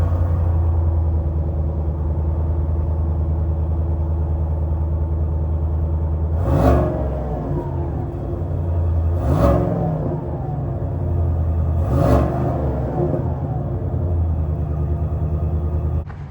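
A 5.3-liter Ecotec V8 in a 2021 Chevrolet Tahoe LS settles into a steady, deep idle rumble, broken by three short revs at even intervals that swell and fade back to idle.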